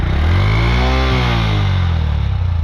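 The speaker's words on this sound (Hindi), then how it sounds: "ये इसकी अभी भी थ्रॉटल की आवाज़ है 10 साल के बाद।" Honda CD 110 Dream Deluxe motorcycle, about ten years old, its engine revved with the throttle up close: a loud single-cylinder note rising in pitch then settling back to a steady idle-like thrum.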